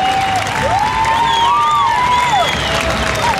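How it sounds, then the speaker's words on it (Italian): An audience at a medieval armoured sword-combat show claps and cheers loudly, with wavering shouts and whistle-like cries riding over a constant crowd roar. "L'applauso, l'applauso, lo voglio più forte."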